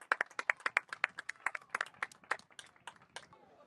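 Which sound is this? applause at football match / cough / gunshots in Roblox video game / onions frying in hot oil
applause at football match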